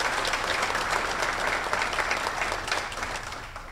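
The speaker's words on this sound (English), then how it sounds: "Let's give Gary a round of applause for what he's done." Audience applause for an honored police officer at a 2019 law enforcement awards event, steady clapping from a crowd filling the room, holding level and tapering slightly at the end.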